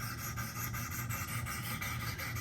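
A Spyderco Para 3 knife blade, previously sharpened with a slightly lopsided bevel, is stroked across the stones of a Wicked Edge sharpener, giving a close, continuous rasping rub with regular back-and-forth pulses.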